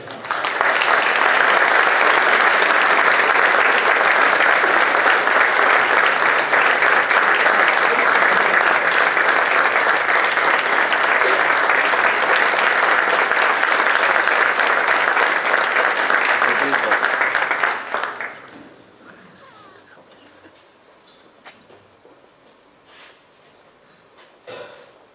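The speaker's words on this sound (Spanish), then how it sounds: "Por favor, un fuerte aplauso." A concert audience gives loud, sustained applause for the municipal band director at a Santa Cecilia concert, dense clapping holding steady for about eighteen seconds before cutting off to quiet room noise with a few stray claps.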